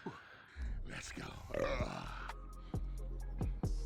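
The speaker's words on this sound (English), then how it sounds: "I love his burps. His burps are great." Burps from a man chugging a drink in a chug challenge, deep guttural eructations, several short bursts with a longer one mid-clip, mixed with grunts and close voices.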